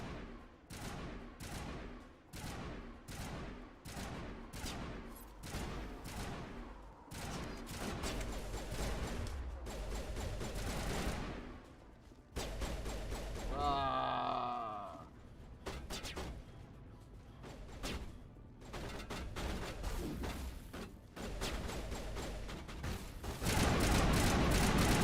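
Gunfire in the Mass Effect Legendary Edition video game: rapid bursts of loud close shots in repeated volleys, with a brief mechanical whine midway, no talk.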